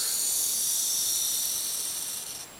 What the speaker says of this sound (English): you can probably hear hissing through the cage there